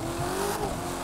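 A brand-new mid-engine Corvette Stingray race car in the video game The Crew 2 roars loudly and steadily as it accelerates, its engine tone rising with a hint of tire squeal and no voices.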